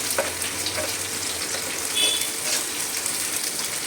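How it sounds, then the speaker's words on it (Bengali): Chopped onions sizzling in hot oil in a pan, a loud, close and continuous frying hiss with no talking. "পেঁয়াজটা একটু ভাজা ভাজা করে নেব।"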